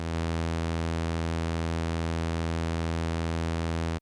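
A steady triangle-wave oscillator tone from the Filterverse synth drones on one pitch, rich in evenly spaced harmonics, unchanging and alone throughout.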